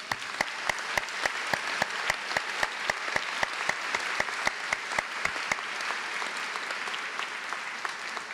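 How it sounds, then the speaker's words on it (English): At a graduation ceremony, an audience applauds the choir, a continuous wash of clapping with one close, sharp clapper beating a fast, regular rhythm, gradually easing off toward the end. "Can we get another round of applause for our choir?"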